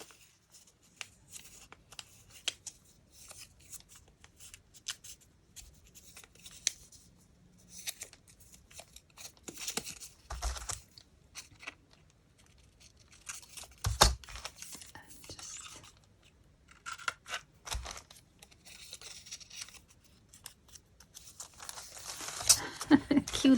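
Paper crinkles and creases as sheets are folded by hand into little envelopes for handmade index-card ephemera, with soft scattered rustles and taps up close and quiet pauses between folds.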